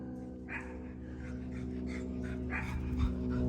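A dog named Woody panting steadily and close by, with rapid rhythmic breaths and soft whimpers over a constant low rumble outdoors, with no talking.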